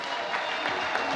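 Wedding guests at a ceremony break into dense, steady applause, a crowd clapping together in a continuous wash of sound for a brief moment.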